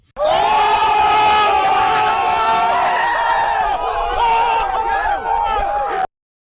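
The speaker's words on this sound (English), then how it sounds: "insert like a crowd going crazy at that point" An inserted sound effect of a crowd going wild, loud and sustained cheering, whooping and yelling from many voices for about six seconds before it cuts off abruptly.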